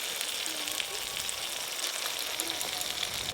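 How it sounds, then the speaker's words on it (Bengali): Mutton masala with yogurt fries in a pan, giving a steady close sizzle that runs evenly from start to finish with faint stirring underneath. "দই দেওয়ার পর মশলা বেশ ভালো করে কষে নিয়েছি।"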